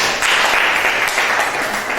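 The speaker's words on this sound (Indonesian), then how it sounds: "tepuk tangan dulu untuk kelompok A" Students in a mathematics classroom clap for a presenting group, a brief burst of dense, even applause close by.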